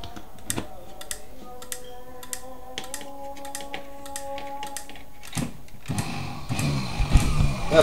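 A homemade electric current generator on a test run, driven through a 1-to-5 relay, gives a steady mechanical hum with rapid ticking clicks, then a louder, rougher running noise builds near the end.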